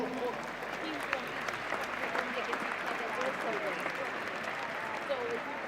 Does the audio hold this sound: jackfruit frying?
no